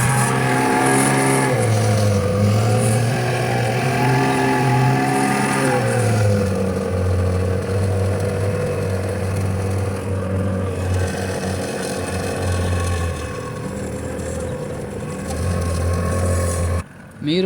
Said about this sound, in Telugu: అయితే బోటర్ సౌండ్ ఫ్రెండ్స్.